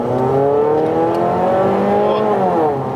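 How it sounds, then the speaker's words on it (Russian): Mazda Axela engine revving hard under full-throttle acceleration, a loud steady harmonic roar climbing in pitch through the high revs with a sporty exhaust note, close and continuous. "Блин, выхлоп, конечно, пуля. Звук очень приятный."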